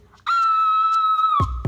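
A single loud, high-pitched scream held steady for about a second, then cut off by a couple of thumps.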